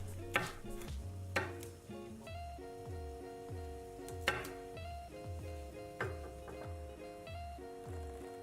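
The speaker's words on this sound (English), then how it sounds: "simply trim the edges and cut them into 5" A knife chops trimmed green beans into pieces on a cutting board with a run of crisp, evenly spaced knocks, close and fairly quiet, while a steady tonal hum plays in the background.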